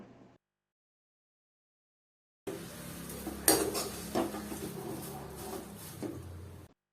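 Flattened rice (poha) with turmeric and salt from the tempering is turned in a pan over low heat, giving soft scraping and light clinks of the spoon after a silent start, with a faint sizzle underneath.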